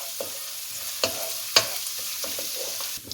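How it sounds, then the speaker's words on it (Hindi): A tablespoon each of chopped garlic and ginger fries in hot oil in a kadai with a steady soft sizzle, broken by several sharp spatula scrapes and clinks as it is stirred; no talking. "अब इसे 1 मिनट तक इसे फ्राई कर लें।"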